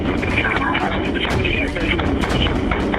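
Dense, sustained gunfire bangs and crackle fill a 911 emergency call continuously, loud and chaotic, with a voice partly buried in the noise.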